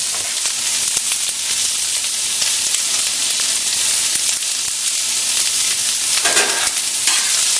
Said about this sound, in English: I'm going to toss the onions and peppers and everything